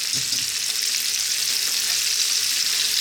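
Sliced onions and roughly chopped garlic frying in oil and quail juices in a pan give off a steady, close hiss and sizzle that runs without a break, with no voices.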